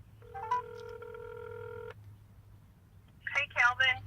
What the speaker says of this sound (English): Let's see if we can get Sherry on the phone